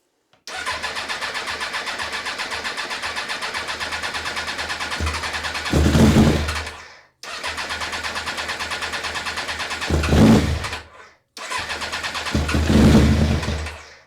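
A Suzuki GSXR motorcycle, a barn find left sitting for years, cranks on its starter after a shot of brake cleaner: three long loud whirring cranking bursts, each swelling into a brief rough catch before cutting off, close up.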